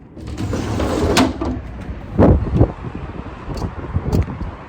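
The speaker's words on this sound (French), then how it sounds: "Je sais pas là si vous entendez le vent actuellement." Wind buffets the microphone in rough, rumbling gusts outdoors in cold weather in São Paulo, with a few sharp knocks and rattles scattered through.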